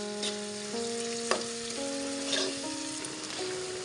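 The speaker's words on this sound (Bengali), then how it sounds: "টমেটো দিয়ে আমি 8 মিনিট কষিয়ে নিচ্ছি।" Potatoes and tomatoes with spices fry in a pan with a steady, close sizzle that runs throughout, joined by a few soft stirring scrapes.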